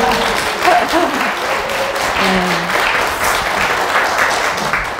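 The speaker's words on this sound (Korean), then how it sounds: "저희 박수 한번 쳐주셔도." Audience at a lecture held at a Won Buddhist temple for the Day of the Great Enlightenment applauding, a dense, sustained wash of clapping at steady volume, with some voices and murmurs faintly underneath.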